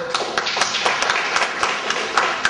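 Audience applause at a 2006 West Columbia city council candidate forum, a steady wash of many hands clapping with sharp, regularly repeating claps standing out, fairly close and continuous with no talk.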